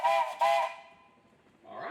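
A steam tractor whistle at a steam show gives two short, loud, steady blasts close by, then fades to faint background rumble with a little low noise at the end.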